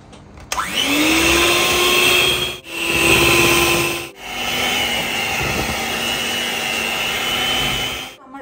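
Electric hand mixer beating a cake batter of self-raising flour and baking soda in a home kitchen, a steady loud motor whine that pauses twice and restarts, continuous for several seconds.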